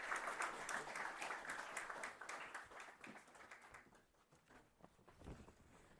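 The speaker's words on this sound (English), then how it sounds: "Let's all join in giving Dr. A.P. Krishna sir for a warm round of applause." An audience at a technical conference session gives a faint round of applause that thins out over six seconds into a few scattered claps, with no speech.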